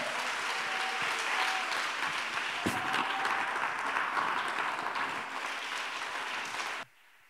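A church congregation applauding together, a dense, continuous wash of clapping from many hands that holds steady and then stops abruptly at the end.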